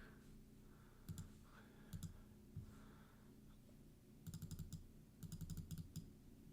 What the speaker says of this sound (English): By triple clicking, you can get it back.